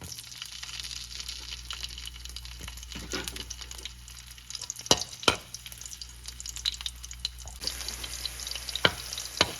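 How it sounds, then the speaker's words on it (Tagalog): Garlic frying in hot oil in a pan, a steady close sizzle with crackles and occasional louder pops and stirring scrapes, no talking. "Mainit na yung kawali guys. Lagyan na natin siya ng mantika. Ilagay na natin yung bawang."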